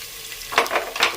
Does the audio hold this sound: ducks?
no